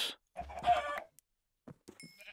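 Video-game chickens let out a couple of short clucks and squawks at close range, separated by quiet gaps.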